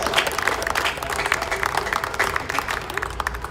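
Applause and clapping from a crowd at an outdoor Palestinian flag raising ceremony in Paterson, New Jersey, steady and dense across the whole moment, with some voices mixed in.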